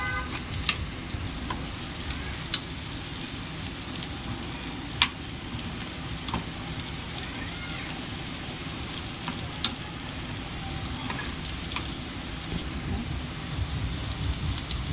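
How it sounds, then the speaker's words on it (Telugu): Sliced bitter gourd fries in a pan with a steady, fairly quiet sizzle, joined by occasional sharp spatula taps and scrapes, with no voices. "కొంచెం ఇలా వేగిన తర్వాత"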